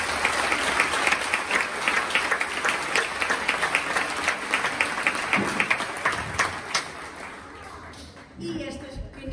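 An audience applauds dancers at a rock ballet show, a sustained wash of clapping with scattered sharp claps and crowd voices mixed in, fading out near the end.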